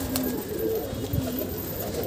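Pigeons in a rooftop breeding setup give soft, steady cooing under constant background hiss and hum.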